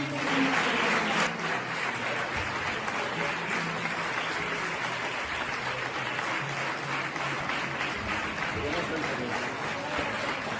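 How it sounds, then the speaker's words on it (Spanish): Theatre audience applauding at the opening of the 30th Villa de Jarandilla theatre festival, a dense, steady ovation sustained for about ten seconds, fairly loud with a slightly louder burst at the start and faint voices mixed in. "Un fuerte aplauso para ellos y subir a responder este tema."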